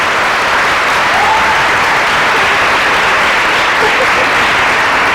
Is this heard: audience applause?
yes